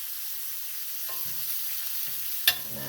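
Shrimp fry in a pan over medium heat with a steady, close sizzle, broken by a few brief stirring scrapes and a sharp clink near the end, with no voices.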